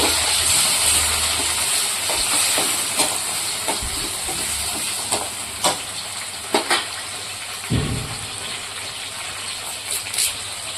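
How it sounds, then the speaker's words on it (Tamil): Chopped tomatoes hit sautéed onions and green chillies in a pan for a sardine curry, giving a steady sizzling hiss with a few louder spits and pops. It plays close and alone, with no talk. "வெங்காயம் நல்லா வதங்கி வந்துட்டு இப்போ நம்ம கட் பண்ணி வச்ச தக்காளி அதை போட்டுக்கலாம்."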